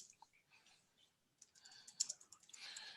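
Typing on a computer keyboard, quiet irregular key clicks that grow denser and busier toward the end, fairly faint with no voices.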